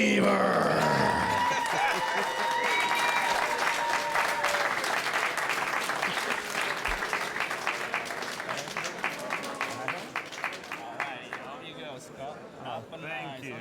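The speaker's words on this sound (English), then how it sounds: "Let's give it up for Scott Seaver." Applause for the champion of a Super High Roller poker tournament in Las Vegas: a dense, steady clapping crowd that swells then gradually thins, with a host's voice over it at the start.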